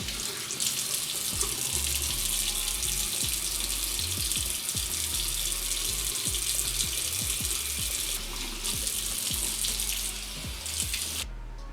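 Tap water runs steadily into a bathroom sink during face washing, a continuous close hiss and splash that stops abruptly at the end.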